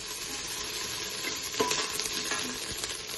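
Prawn biryani ingredients are stirred in an AMC cookware pot, a close steady sizzle with a few scraping stirs and light clanks, brief and without voices.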